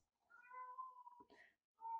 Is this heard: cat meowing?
yes